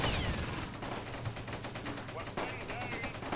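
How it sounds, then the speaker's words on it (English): Heavy gunfire from the World War II tactics game Close Combat: Gateway to Caen, with Churchill tanks in the fight: a dense, continuous crackle of rapid shots and bursts, loud and sustained throughout, with no voice over it. "That is some very heavy fire being put down by something."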